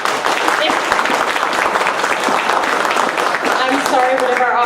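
Audience at a 2009 St. Paul mayoral candidate forum breaks into loud, dense, sustained applause that fills the room, with a voice starting to speak over it near the end.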